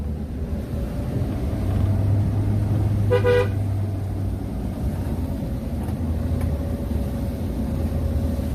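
A short car horn honk rings out once at a bend on a mountain road, over a constant engine drone and rough road noise, with a low hum continuing throughout.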